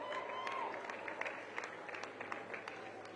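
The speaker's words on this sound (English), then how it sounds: "Let's give them all a round of applause." A crowd applauds together at a community holiday meal event with the mayor present. Dense, moderately distant clapping runs through the whole short stretch, with a faint voice or tone briefly audible near the start.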